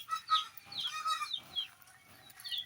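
Several chickens cluck and chatter in short, scattered bursts close by, with quiet gaps between calls.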